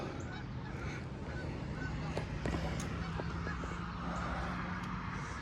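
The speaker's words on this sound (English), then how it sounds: "Oh, I hear Canada geese." Five Canada geese honk faintly in the distance overhead, a few scattered calls over steady outdoor background noise.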